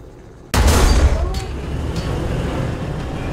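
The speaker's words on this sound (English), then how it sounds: "He's firing APDS." A tank cannon firing an APDS round in War Thunder, with the Vickers Mk E in play: one sharp, heavy blast followed by a rumbling decay. Fainter sounds trail after it.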